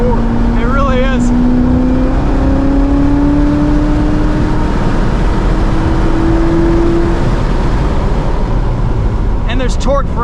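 A 2019 Chevrolet Corvette Z06 with seven-speed manual, held in third gear on a race track, drones loudly and steadily with rising engine pitch, close up inside the cabin, with brief talk from the driver near the start and end.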